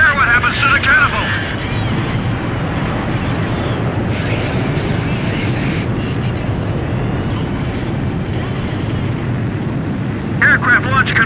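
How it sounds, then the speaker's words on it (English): A carrier catapult launch of an aircraft in Ace Combat 5, heard as a loud, steady roaring rush of jet engine noise lasting throughout, with voices speaking over it. "Aircraft launch confirmed."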